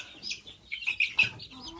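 A purebred Adler rooster chick clucks a few quick times at close range, short throaty notes in an uneven rhythm.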